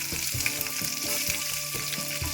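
Chopped onions fry in a pan for a quick curd rice dish, a steady close sizzle with rhythmic stirring scrapes repeating every half second or so.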